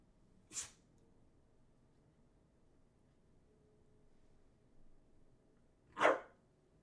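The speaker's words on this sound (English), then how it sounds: "we've got a guest dog on the stream" A visiting dog indoors gives two sharp, isolated barks several seconds apart, with near-silence between them.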